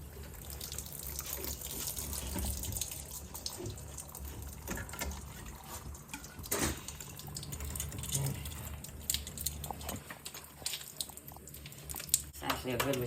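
Water runs and splashes as a home supply is turned back on during replacement of a water conditioning system, an uneven rushing and sputtering that goes on throughout, with a person talking at times.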